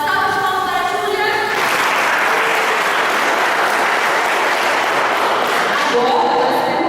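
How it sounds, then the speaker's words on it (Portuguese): A seated audience at a science demonstration gives a sustained round of applause, dense clapping that swells and holds steady, while a voice talks briefly over it at the start and near the end. "Uma salva de palmas para a Júlia."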